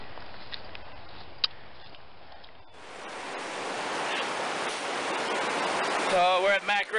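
Maccarib Creek in the Tonquin Valley of Jasper rushes as a steady, close, full wash of flowing water that grows louder partway through, with a voice briefly rising over it at the end.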